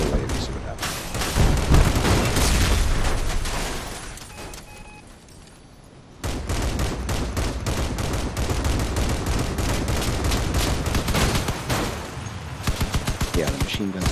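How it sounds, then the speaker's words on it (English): Machine gun fire from a Crossout combat vehicle, dense rapid bursts mixed with heavy booms and explosions, a brief lull partway through before the shooting resumes steadily to the end, with voices talking underneath. "the machine gun's good"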